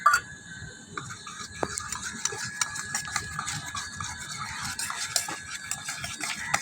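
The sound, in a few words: stirring a mixture with detergent powder in a container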